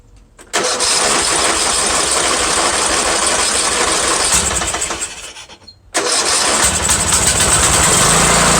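A John Deere L100 lawn tractor engine cranks loudly and steadily with the choke off, sputtering without catching, then stops briefly before a second long cranking attempt begins.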